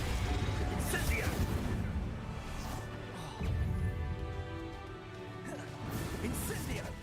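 Spell blasts from the video game Hogwarts Legacy, Reducto and Incendio, burst out as loud crashing impacts and crackling bursts in quick succession, several hits over a dense, continuous game soundscape.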